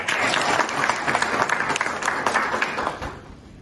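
Audience applause at a rider union medical check-up event in a hospital, a crowd clapping briskly for a few seconds before it thins and fades out.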